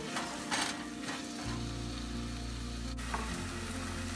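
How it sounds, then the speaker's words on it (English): Onions sizzle in a hot pan for methi paneer bhurji, a soft steady frying hiss with a few stirring scrapes near the start and a low hum underneath, close and fairly quiet, with no one speaking. "Now we will add onions to this and we'll saute this until the onions are translucent in color."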